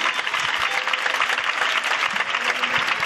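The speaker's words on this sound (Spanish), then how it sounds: "¡Un aplauso para el genio!" Energetic applause from an audience at a children's music school closing show, a musical version of Aladdin, a thick, close, steady clatter of many hands clapping that carries on with no pause.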